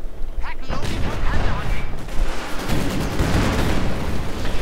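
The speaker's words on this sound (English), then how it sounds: "the Panzer IV is down, and next the field guns proceed to deal with the infantry" Field guns and gunfire in a Company of Heroes 2 battle with Panzer IV and T-34 tanks and infantry, a dense roar of booms and firing with loud, steady, layered blasts.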